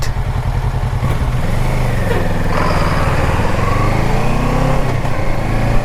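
A 2017 Kawasaki Versys 650 motorcycle rides along uneven pavement, its engine note droning steadily and loudly throughout with a rise in revs partway through, wind rushing over the drone.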